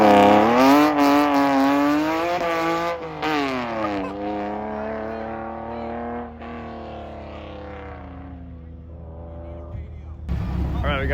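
A Porsche Cayman S 987.1 on slick tires runs an autocross course in Idaho, its engine note loud and rising through hard acceleration, then falling away as the car moves off into the distance.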